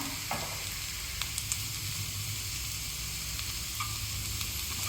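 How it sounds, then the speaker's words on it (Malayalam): Green beans stir-frying with chili powder for a beans mezhukkupuratti give a steady, dense sizzle from start to finish, with a few brief stirring scrapes and taps mixed in and no voices. "ബീൻസ് ഒന്ന് വഴങ്ങിയിട്ടുണ്ട് ഇനി നമുക്ക് മുളക് പൊടി ഇട്ട് കൊടുക്കാം"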